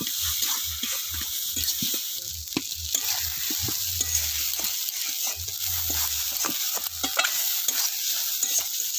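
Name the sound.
stirring green pea kachori filling in a kadai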